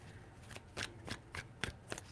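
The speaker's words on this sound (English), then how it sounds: "3 shuffles." Tarot cards are shuffled by hand in quick repeated bursts, about six crisp riffling flutters in close succession. The sound is close and fairly quiet, with no talking.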